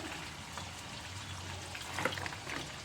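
Water is poured into a pan holding turmeric and Kashmiri chili powder, a brief, fairly faint, steady pour with a soft splash near the end.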